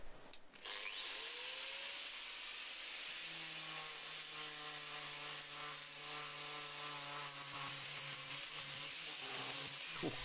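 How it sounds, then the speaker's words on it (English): An angle grinder roughs out a cleaver from two farrier's rasps. It spins up quickly, then holds a loud, steady, high metallic whine with a gritty grinding edge for about ten seconds. "So I'm just going to rough it out with the angle grinder to start with."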